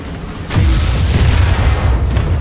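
Tank gunfire in the War Thunder video game, from a match featuring the Matilda tank, bursts in as a loud, sustained booming rumble after a brief quieter moment, with no talking.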